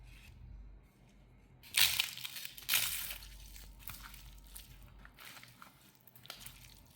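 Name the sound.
eating rice meal with curries from banana leaf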